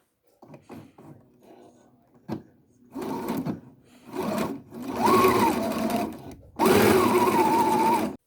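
A sewing machine top-stitches the edge of pajama fabric, running in short bursts that grow longer and louder, ending in two sustained close runs with a whining motor tone and brief pauses between them.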